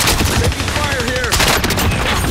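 Dense gunfire in the Warzone video game: loud, rapid overlapping bursts run through the whole short moment, with a voice faintly audible among the shots.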